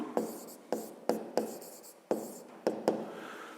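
Hand-writing a maths solution on paper, a quiet close series of scratchy pen strokes in short bursts with small pauses between, about seven strokes in all.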